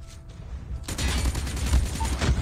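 Rapid gunfire in the mobile shooter COD Mobile bursts in after a quiet start, a dense fusillade of close shots rattling continuously to the end.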